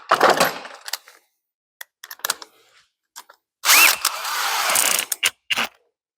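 Cordless battery drill boring out rivet or bolt heads on Ford F100 floor pans: several short whirring bursts, then a long loud grinding drill run with ratcheting catches, close up, no talk.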